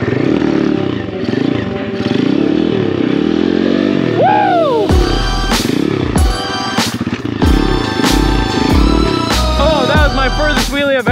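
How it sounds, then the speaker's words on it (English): An Apollo dirt bike bought on Amazon is ridden through a wheelie: its small engine revs loudly and close, rising and falling in pitch with repeated throttle surges and gear shifts, and clanks and rattles come through near the end. "Furthest wheelie I've ever done."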